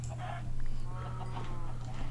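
Chickens in a video game cluck softly in short, repeated bursts over a steady low electronic hum.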